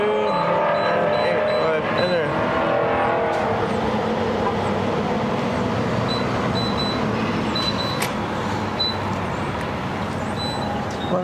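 Dense traffic at a busy gas station forms a constant loud roar of engines and passing cars, and a voice talks over it.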